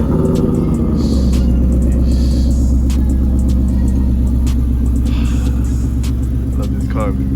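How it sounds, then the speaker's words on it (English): Cold start of a G car engine, a loud steady low rumble and idle that holds throughout, close and continuous. "Let's do a little cold start on the G."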